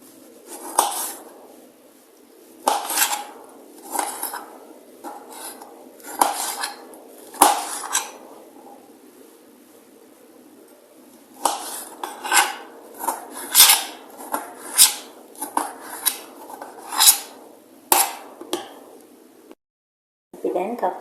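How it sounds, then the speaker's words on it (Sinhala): A knife cuts tomato, onion and bell pepper into small pieces, making clustered close clicks and scrapes against a board, bursts separated by brief pauses, with no talking. "දැන් තක්කාලි ලුණු බෙල් පෙපර් ටික එහෙම චූටියට කපා ගත්තා."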